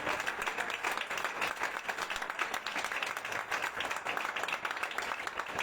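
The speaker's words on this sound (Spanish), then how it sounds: "Dar un aplauso a Dios, alaba a Dios." A church congregation applauds together, a dense, steady wash of many hands clapping at moderate loudness throughout, with a faint voice underneath.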